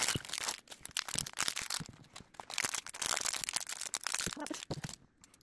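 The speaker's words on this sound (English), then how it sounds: "Gotta open all these little plastic baggies." Little plastic baggies from a Disney Doorables mystery toy set are torn open and handled, a close, busy run of crinkling and crackling bursts with brief pauses, and a quiet voice occasionally underneath.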